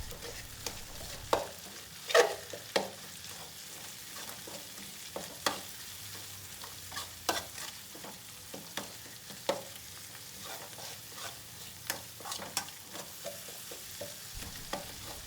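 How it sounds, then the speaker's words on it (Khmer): Prahok is stirred with garlic and spices in a hot pan. A soft sizzle runs underneath while the spoon scrapes and clinks against the pan in irregular strokes, with no voices. "ដាក់ប្រហុកចូលហើយយើងកូរប្រហុកជាមួយគ្រឿងខ្ទឹមរបស់យើងហ្នឹងកូរវាឲ្យសព្វឲ្យវាចូលជាតិគ្នា"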